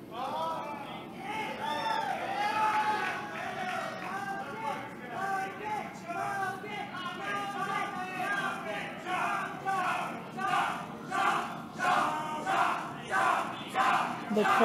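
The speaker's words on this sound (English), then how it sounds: "The crowd wants Logan Creed to give him a chop" A wrestling crowd at a pro wrestling show cheers loudly and then breaks into a rhythmic chant that swells in regular waves.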